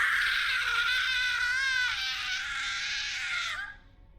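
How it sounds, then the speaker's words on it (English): A woman's horrific, drawn-out scream, loud and shrill, sustained for about three and a half seconds with a wavering tone before cutting off abruptly. "Then she let out a horrific scream."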